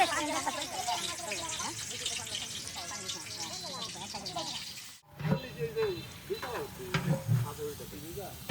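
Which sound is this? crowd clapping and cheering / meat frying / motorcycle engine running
meat frying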